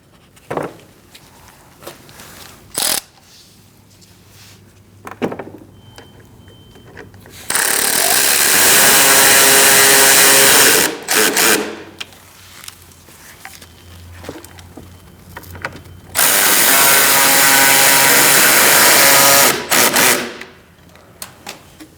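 Power tool tightening radiator bolts on a 2016-2019 Chevrolet Cruze 1.4L, in two loud sustained whirring bursts of a few seconds each. Short clicks and clatter of tools sound in between.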